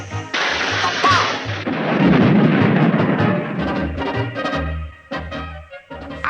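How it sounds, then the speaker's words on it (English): A cartoon bomb explosion erupts in a loud, sustained blast with rumbling debris, followed by a few shorter bursts and pops as the noise trails off. "And now I hear something. A bomb!"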